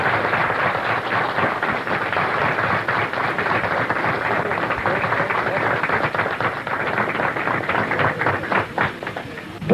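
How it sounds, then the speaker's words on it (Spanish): An audience at an evening event applauding, a dense, steady wash of many hands clapping that holds at an even level throughout and swells slightly near the end. "Pedimos un gran aplauso para él."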